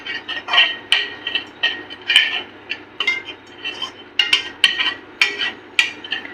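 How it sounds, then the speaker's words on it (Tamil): A spoon stirs chicken chukka masala in a pan over a low flame. It makes a steady run of about a dozen metallic scrapes and clinks in an even rhythm, close up, with no voices. "லோ ஃப்ளேமில் வச்சு நல்லா அந்த பச்சை வாசம் போகிற வரைக்கும் மிக்ஸ் பண்ணி விடுங்க"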